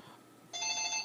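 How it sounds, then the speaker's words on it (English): A phone starts ringing abruptly after a quiet moment, a bright steady electronic tone that holds for the rest of the brief moment. "it's the phone"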